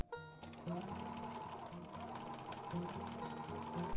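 A sewing machine stitches a bound buttonhole on a coat, a steady, fast mechanical whir and rhythmic needle clatter running close and continuous after a brief quiet start.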